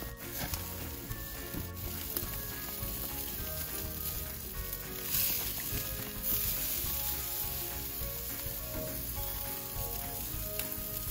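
Steak sizzling steadily on a hot grill grate, a loud, dense, continuous crackle close by with small pops, no talking over it.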